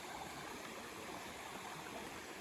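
River water flowing steadily beside a hiking trail in the Pemigewasset wilderness near Mt Nancy and Vose Spur, a faint, constant broadband rush with light gurgling and no voices.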